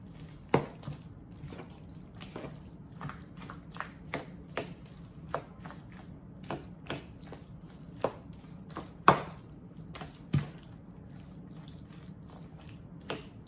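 A spoon mixes sour cream into a pan of baked mac and cheese. Soft, wet squishing runs under a string of sharp, irregular clicks and taps of the spoon against the dish, close and fairly quiet, with no talk.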